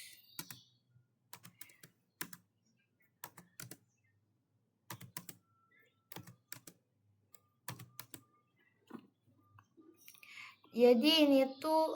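A computer keyboard typed on in short bursts of crisp clicks and key taps while entering a spreadsheet formula for a statistics assignment, with long pauses between bursts and a voice speaking at the end.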